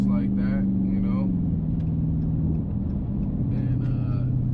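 Supercharged Dodge Challenger Hellcat Redeye V8 pulling hard through traffic, a loud, deep engine roar rising in pitch with a whining edge, then easing off into a steady rumble, with someone talking over it.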